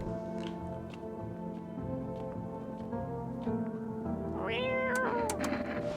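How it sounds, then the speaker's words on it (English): A cat meows over steady background music, with a rising, drawn-out mew near the end standing out clearly; no talking is heard. "Pick the cat up."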